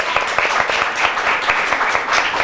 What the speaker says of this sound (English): Come on, give it up for All Road Primary.